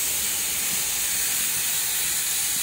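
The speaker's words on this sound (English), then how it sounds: "this is the train coming from Smallbrook Junction." Steam locomotive No 8 Freshwater arrives at Havenstreet station on a heritage railway, a loud, steady hiss of escaping steam filling the scene at close range with no voices.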